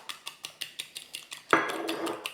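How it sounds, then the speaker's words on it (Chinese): Whisk or utensil stirring beaten egg mixed with a little water and starch slurry in a bowl for a shrimp omelette, a steady series of quick clinking taps followed by a louder, denser scraping clatter, alone without talk. "再加到蛋里面，然后搅"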